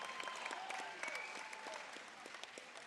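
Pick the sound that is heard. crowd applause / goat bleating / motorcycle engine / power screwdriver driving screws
crowd applause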